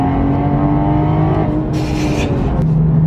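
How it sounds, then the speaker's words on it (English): A modified 550 bhp Toyota Supra engine hums steadily at a loud, close level while cruising, with a low continuous drone and a slight rise in pitch midway. "So the car really is a lovely cruiser as well. Just driving along, it's super nice."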